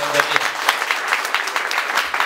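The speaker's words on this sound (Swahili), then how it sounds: "Makofi mengi sana kwa Tanzania" An audience claps in steady, dense applause at a youth day gathering in Arusha, Tanzania, a close, even patter of many hands lasting a couple of seconds.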